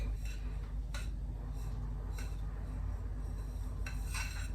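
A spoon stirring an apple mixture in a bowl for apple butter, with soft scraping and a few light clinks against the sides at irregular intervals, fairly quiet and with no talk.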